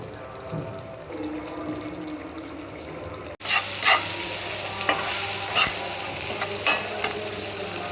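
Tomato and onion frying in a pan for prawn curry, a quiet simmer that jumps to loud, steady sizzling with scraping stir strokes, close and alone with no talking.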